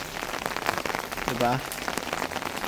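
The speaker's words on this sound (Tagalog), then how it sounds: "Nag-ano na guys, nag-hail na." Hailstones fall and bounce on a surface outdoors during a sunshower, a dense steady patter of small clicks and taps, with a person briefly speaking over it.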